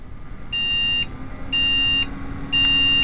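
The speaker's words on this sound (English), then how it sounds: "there won't be any beeping noises" Three evenly spaced electronic beeps from a Windows XP gaming PC starting up without RAM, each about half a second long and shrill, repeating once per second over a low background hum.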